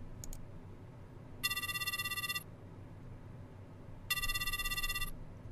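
A telephone rings unanswered inside a horror dating-sim video game, two separate bursts of bright electronic ringing, each about a second long, separated by a pause over a low background hum.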